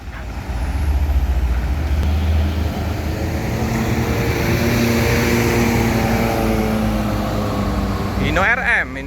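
A Hino RM 280 bus engine idles and revs steadily, a loud low diesel drone with rising tonal whine, ending with a brief air-brake hiss.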